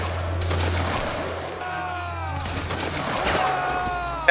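A line volley of muskets in a Roblox war game cracks out as a ragged burst of overlapping shots, loud and close, followed by scattered further reports and echoing booms, with a voice heard briefly among the gunfire.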